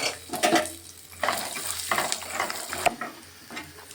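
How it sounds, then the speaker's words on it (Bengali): Peanuts fry in sunflower oil in a wok, making a close crackling sizzle in uneven bursts, with clattering stirs and scrapes against the pan. "আর এখানে নিয়েছি বাদাম, বাদামটা প্রথমে ভেজে নিচ্ছি"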